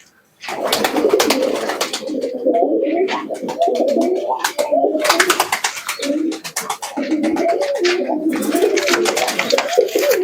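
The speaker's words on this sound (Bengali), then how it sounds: "খুব সুন্দর কবুতর" Pigeons, including a golden one, coo close by in repeated, rumbling bursts, with several birds overlapping and brief pauses between phrases.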